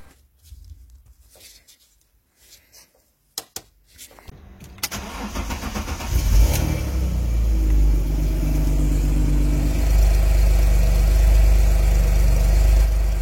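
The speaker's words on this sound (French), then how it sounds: "il ne reste plus qu'à démarrer la voiture et vérifier qu'il n'y a pas de fuite" An Alfa Romeo 156 GTA engine cranks and catches after some quiet clicks and handling noises, then settles into a steady, loud, rumbling idle after an oil change.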